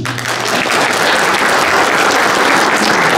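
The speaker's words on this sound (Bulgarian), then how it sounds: "Аплодисменти!" Loud, dense audience applause fills the whole stretch at an anniversary celebration in the Pamporovo resort in the Rhodope mountains, steady and sustained without a break.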